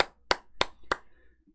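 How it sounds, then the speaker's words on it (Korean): Three sharp, evenly spaced hand claps from a single person, close and distinct against near silence, with a faint trailing tail after the last clap. "다시 한번 박수를 보내드립니다"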